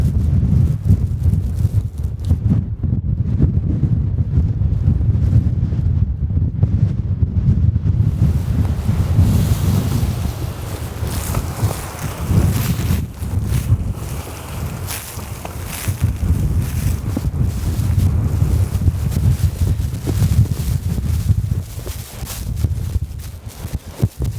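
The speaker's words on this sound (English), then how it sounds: "Whoa, those gusts are crazy." Strong blizzard wind roars and buffets the microphone in heavy, continuous gusts, rising and falling with a deep rumbling blast, outdoors at a snowy winter campsite.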